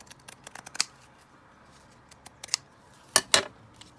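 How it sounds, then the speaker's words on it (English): Scissors snip through a paper label in short crisp cuts, a scattered run of light snips followed by two louder close clips near the end, in an otherwise quiet room. "I'll just cut this down first."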